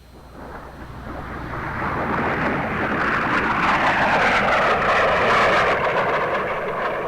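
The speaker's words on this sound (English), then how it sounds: "The F-86D was the first one-man jet interceptor in the world" A North American F-86D Sabre, a 1950s one-man jet interceptor, roars past as a loud, broad jet rush. It swells over the first seconds and holds steady and powerful, with wind-like hiss throughout.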